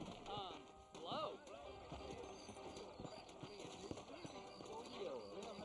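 Horse hooves clip-clop at a steady walking pace in the Western video game Red Dead Redemption, with an occasional whinny and a voice talking over the hoofbeats throughout.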